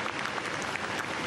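Passers-by in Paris clap as Jacques Chirac's funeral cortege sets off toward the church of Saint-Sulpice, a dense outdoor patter of applause, somewhat distant and even, with no voices standing out.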